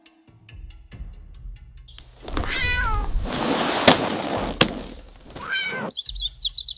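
A cat meows in two drawn-out, wavering calls, close and clear, with soft thumps and a brief chirping sound at the end.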